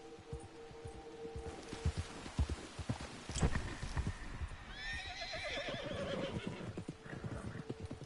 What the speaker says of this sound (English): It's a wild horse.